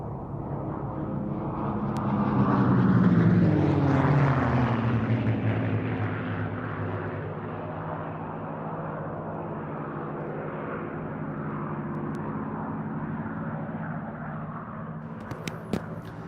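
Three North American P-51 Mustang warplanes pass over an air show, a loud sustained propeller-engine roar that swells as they approach, then holds as a steady drone for the rest of the pass.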